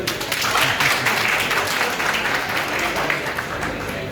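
An audience at a youth convention gathering in Jammu applauds, a dense, sustained wash of many hands clapping that fills the short stretch at a fairly even level.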